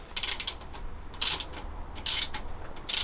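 A ratchet winding on a motorcycle front fork during a GS500 scrambler build, four quick close bursts of crisp clicking, each a rapid run of pawl ticks with short pauses between.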